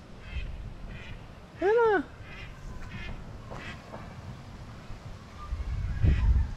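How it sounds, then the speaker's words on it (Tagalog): A wild duck gives a short burst of loud, nasal quacks near the middle, close by, set against outdoor background noise with a brief voice speaking. "Patong gubat yan mga kasinag, yung wild duck"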